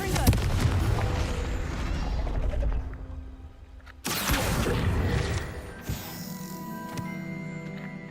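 A Confringo spell in Hogwarts Legacy goes off as a loud, sharp explosive blast, followed by a second sudden burst and rumbling debris with mechanical clatter trailing off.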